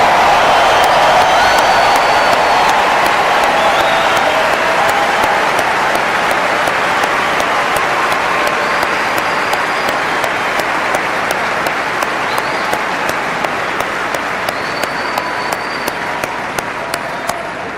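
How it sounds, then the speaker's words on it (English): Large outdoor crowd applauding at a presidential inauguration in Washington, D.C., a dense, steady roar of clapping with scattered cheers that carries on loud throughout and eases slightly toward the end. "I want everybody here to give a rounding applause for the"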